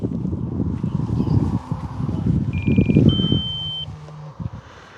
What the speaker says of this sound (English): we do have the critically low alarm